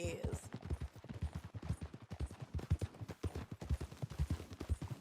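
Horse hooves clop in a quick, steady rhythm close by in the video game Red Dead Redemption 2, continuing throughout with a faint voice at the beginning.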